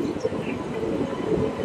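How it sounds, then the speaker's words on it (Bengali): Platform 4 at NJP railway station: a low, steady rumble of trains and station noise fills the short stretch, with faint background voices. "পৌঁছে গেলাম এনজিপি স্টেশনের 4 নম্বর প্ল্যাটফর্মে।"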